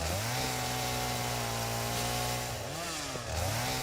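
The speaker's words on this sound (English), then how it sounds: "Always go for the chainsaw as one of the early things, because that will save you hours in collecting wood." Chainsaw cutting trees in Satisfactory, a loud, steady buzzing drone that dips and rises in pitch as the blade bites into wood, close and continuous.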